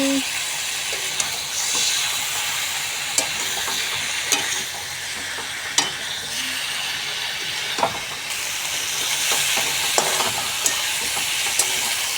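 Chicken sizzles in a shallow layer of oil left from frying potatoes, a steady close hiss broken by regular scrapes and knocks of a spatula stirring the pan.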